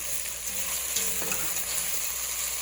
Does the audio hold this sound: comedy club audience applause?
no